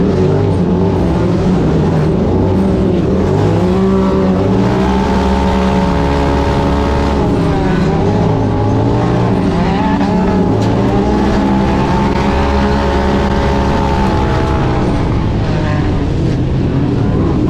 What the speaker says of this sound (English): Contact all over the racetrack on the first half lap, and now one car's off the track once again.